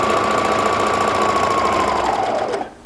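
A serger sewing machine attaching elastic straps along a top edge runs in one steady, fast, buzzing whir for nearly three seconds, then winds down and stops.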